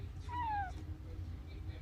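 A male cat gives a single short, fairly faint meow at home, a rising then falling cry heard once over a low background hum.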